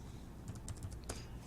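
Keystrokes on a computer keyboard while a Lactobacillus search term is entered into a bioinformatics protein database, a short run of quiet, close clicks spaced irregularly over a low steady room hum.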